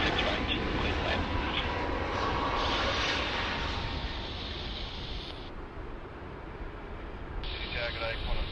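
Aircraft landing on runway 16 right at Sydney Airport, a broad distant engine roar with steady rushing noise over several seconds, mixed with radio-style air traffic talk.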